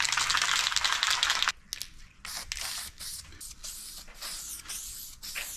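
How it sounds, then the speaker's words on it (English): Close, steady hiss of an aerosol can spraying weld-through zinc-rich primer onto laser-cut steel parts on a Rolls Royce Transit build, one long continuous burst followed by several shorter spurts. "So this is weld through zinc rich primer."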